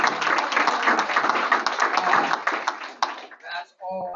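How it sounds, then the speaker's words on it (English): Audience at a school board of education meeting clapping in steady applause for about three seconds, fairly close and even, then fading out as a voice starts to speak. "So give yourself a round of applause."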